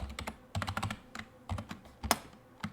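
Keys clatter on a computer keyboard as a password is typed during a Kali Linux setup on Windows 10, coming in quick close bursts of clicks with short pauses and a sharper tap near the end.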